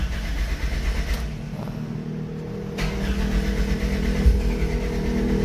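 A fuel-injected car engine converted to run on LPG cranks and catches briefly, a low continuous rumble with a couple of sharper bursts as it struggles to fire, close and fairly loud.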